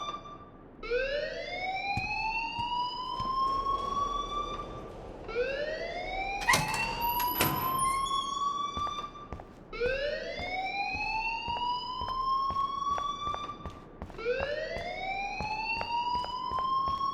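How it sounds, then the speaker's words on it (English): Rising, repeating electronic alarm wails through a school hallway in Life is Strange, sweeping upward in steady cycles about every four seconds, loud and continuous with brief clanking noises mixed in. "please turn off that alarm since that's your job"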